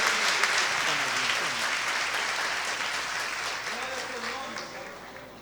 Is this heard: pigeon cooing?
no